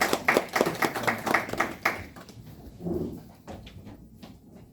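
Audience applause during a Korean group presentation session, a burst of dense, steady clapping for about two seconds that then thins out to a few scattered claps.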